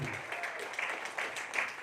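Brief applause from an audience at a business-plan presentation, a short, moderately quiet burst of steady clapping.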